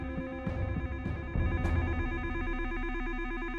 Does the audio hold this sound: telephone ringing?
yes